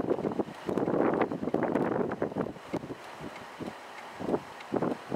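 Gusty wind buffets the microphone outdoors, rumbling loudly at first and then easing into fainter rushes and flutters.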